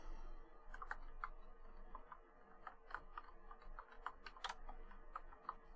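Steady computer keyboard typing with clustered key clicks in an irregular rhythm, close and moderately quiet, no voices, while entering C++ code.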